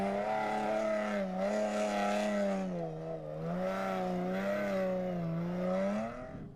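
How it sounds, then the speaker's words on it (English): Overdrive Nissan rally car driven hard across sand dunes, a steady, loud engine note that climbs and dips with revs over several seconds, then fades away at the end. "the Overdrive Nissan being overdriven over the sand dunes by Roman Briskindov"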